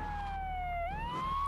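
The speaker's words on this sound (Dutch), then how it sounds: "Het loeiende sirenes uiteraard." A police siren wails in GTA 3, one loud, close tone gliding slowly down and then climbing back up over a low rumble of traffic.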